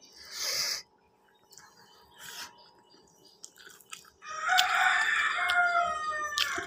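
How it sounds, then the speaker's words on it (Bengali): Chickens and a rooster in a rural-style house in the city cluck and crow from downstairs, moderately distant, with quiet gaps between calls and a louder burst of crowing near the end, no talking. "নিচতলায় কিছু মুরগি আছে, কিছু রাজহাঁস আছে।"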